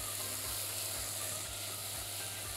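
Green peppers and garlic sauté in a pan with a steady, soft, continuous sizzling hiss, fairly quiet and alone, with no voices over it.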